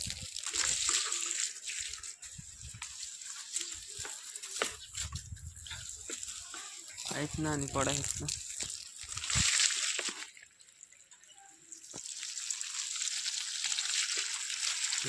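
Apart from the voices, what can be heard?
irrigation water released and flowing into a field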